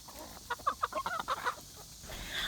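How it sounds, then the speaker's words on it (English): Several free-range chickens cluck in quick bursts close by while snacking, a busy run of short calls over quiet outdoor background. "Our chickens are enjoying a quick snack before they venture off into the woods"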